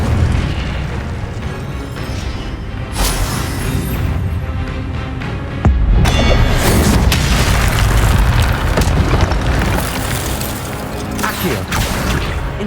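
Incendio fire spell cast in the game Hogwarts Legacy: loud, rumbling booms and fiery bursts that swell and repeat, with a sharp crash near the middle and dense roaring layers after it.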